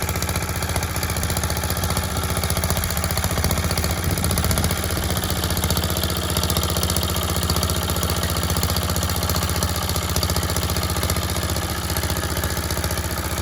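A walk-behind tractor fitted with a rotary tiller runs steadily in a field, its loud, continuous engine drone close by and unbroken throughout, with no talk.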